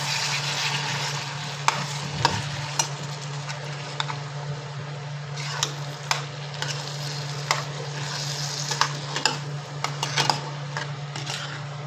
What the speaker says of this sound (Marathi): आता आपण बघू असं परतून घेऊ व्यवस्थित